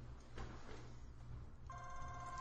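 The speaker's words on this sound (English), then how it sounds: "Oh, my phone's ringing." A phone rings quietly with a steady electronic tone that starts partway through, over a low background hum.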